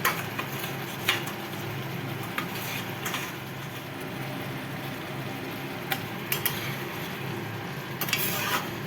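Eggplant pieces frying in hot oil in a pan, a steady close sizzle with occasional sharp clicks and scrapes of a utensil against the pan.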